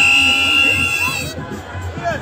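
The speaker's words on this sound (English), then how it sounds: "We've got a noisy crowd, but they ain't doing anything apart from blowing whistles." A noisy protest crowd outside Downing Street, with a shrill whistle sounding over loud hubbub that then drops to scattered chatter and voices, plus talk close by.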